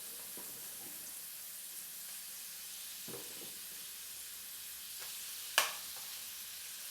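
Quiet, steady sizzling of onions and peppers frying in a pan for a jalfrezi, with a few soft clinks and one sharp scrape of a utensil near the end.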